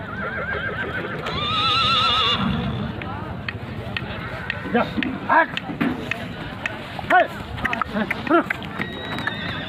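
A black horse at a fair neighs loudly and close while its hooves clip-clop as it is walked, with a crowd babbling and people talking throughout.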